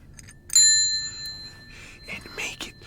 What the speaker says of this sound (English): Look, the bell.